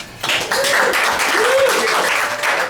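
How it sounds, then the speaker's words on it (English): An audience at a gathering claps steadily for a firefighter of 27 years, a dense, even wash of applause that holds for nearly three seconds while a voice speaks faintly over it. "No, don't clap for that."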